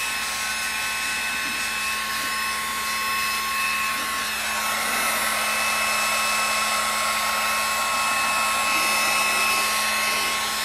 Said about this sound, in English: I am going to hit it with the heat gun a little bit.